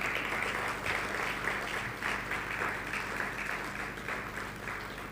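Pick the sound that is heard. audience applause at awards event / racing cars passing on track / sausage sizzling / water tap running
audience applause at awards event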